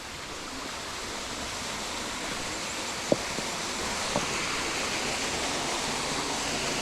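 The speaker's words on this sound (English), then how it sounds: "There's the waterfall." A waterfall at Koh Samui produces a soft, continuous rush of falling water, steady and fairly distant, with a couple of faint brief clicks partway through.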